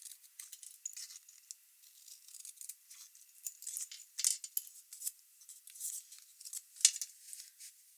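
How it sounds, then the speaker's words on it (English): Metal craft snips cut a fishtail notch into the end of a paper strip for a handmade card, giving a quiet run of crisp, irregular snipping and rustling close by with no talking. "I'm going to take my snips and just fishtail."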